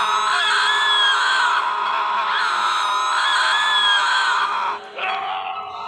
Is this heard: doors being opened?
no